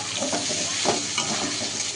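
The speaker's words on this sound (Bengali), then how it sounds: "এখানে আলু ভাজা বসিয়ে দিয়েছি, দেখো" Potatoes frying in a pan, a continuous hissing sizzle heard close and steady for two seconds, no voices.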